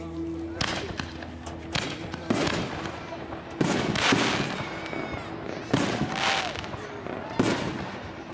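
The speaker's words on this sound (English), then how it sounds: "All right, those are the extreme artillery shells." Extreme artillery shell fireworks burst in a rapid sequence of loud, booming explosions, each followed by crackling and fizzing trails, heard from a moderate distance with faint crowd voices between the blasts.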